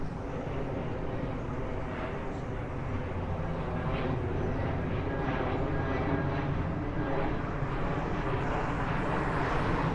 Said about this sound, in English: You'll hear some planes passing over from time to time.